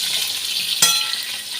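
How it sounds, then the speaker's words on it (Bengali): Shrimp frying in a pan with ginger, garlic, onion and green chili paste, a steady close hiss of oil with one sharp spattering crackle partway through, no voices. "দেখো, এবার আমি এর ভিতরে মাছগুলোকে ভেজে নেব"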